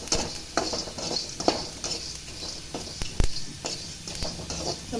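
Fennel and cumin seeds dry roasting in a pan without oil, scraped and stirred in a run of crisp rattling bursts and small ticks, close and moderately quiet, with no talk.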